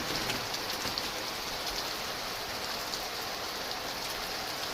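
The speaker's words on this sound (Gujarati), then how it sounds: "મગફળીમાં પાણી ભરાઈ જાય છે એ ટાઈપનો વરસાદ ચાલુ છે" Very heavy rain pours steadily over a flooding groundnut field, a dense, constant hiss of water hitting surfaces with no voices.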